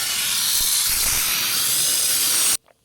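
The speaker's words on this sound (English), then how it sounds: "now we're going to continue doing the rest with steam." Steam cleaner blasting the engine bay of a Porsche 993 Targa, a loud close continuous hiss that stops abruptly near the end, with faint knocks beneath.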